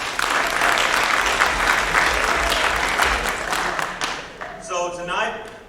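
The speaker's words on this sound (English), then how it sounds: "give those guys a round of applause" A crowd applauds junior high football players at their first bowl game, dense sustained clapping that fades near the end as a voice begins to talk over it.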